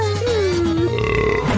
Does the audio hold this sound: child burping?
yes